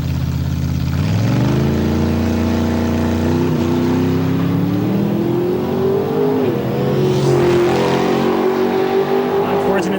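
A 1980 Olds Cutlass drag race car with a 488 cubic inch engine roars loudly, its revs climbing and shifting through the run, with an announcer speaking over the engine noise.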